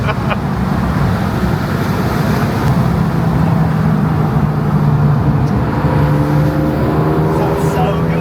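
A race car built for World Racing League endurance events runs steadily and loudly throughout, its engine droning with a sustained tone, and voices talk over it.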